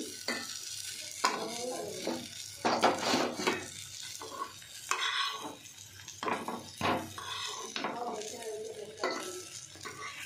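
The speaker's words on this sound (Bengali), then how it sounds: "দেখুন যে বেগুনগুলো ভাজতে দিয়েছিলাম পরের বার, সেগুলো আমার হয়ে গেছে ভাজা। এবার এগুলো আমি আস্তে আস্তে তুলে নিচ্ছি।" Fried eggplant slices are lifted out of a hot frying pan, with steady oil sizzle, repeated scraping and stirring, and light clinks of the utensil against the pan.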